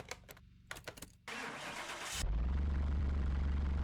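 A virtual Lotus Esprit in Car Mechanic Simulator 2021 starts up: a few clicks and a whirring crank, then the engine catches and settles into a loud, steady low idle.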